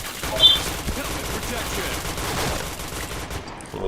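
Rapid bursts of gunfire crackle in a shooting video game, dense and fairly steady with a sharper shot near the start, under faint background chatter.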